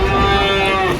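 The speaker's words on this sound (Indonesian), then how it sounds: "Banyak sapi-sapi jumbo yang berdatangan." A deep, sustained moo from Angus or Limousin cattle at a livestock market, loud and close, with a steady droning tone filling the whole clip.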